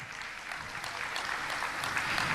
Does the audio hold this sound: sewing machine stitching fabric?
no